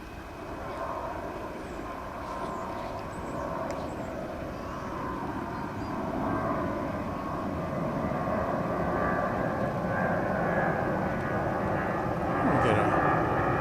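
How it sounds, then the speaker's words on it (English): A British Airways airliner taxis at DFW Airport toward the international terminal, its jet engines giving a steady, moderately loud rumble and whine throughout while someone talks over it. "British Airways flight headed over to Terminal D, the international terminal here on the west side of DFW"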